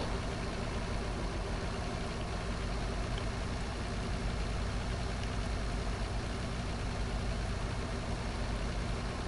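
European truck engine idling, a steady low diesel rumble that stays even and unbroken throughout, fairly close with no voices.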